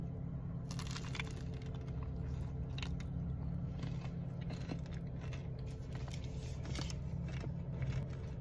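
Someone chews a crunchy Wendy's breakfast sandwich close to the microphone, giving faint repeated crunching and biting bursts over a low steady background hum, with no talk.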